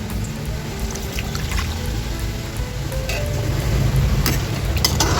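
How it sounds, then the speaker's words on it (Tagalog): Rice washing water pours into a pot of chicken tinola, a steady gushing splash with faint sizzling beneath, close and continuous without speech. "At isusunod na natin guys yung ating hugas bigas"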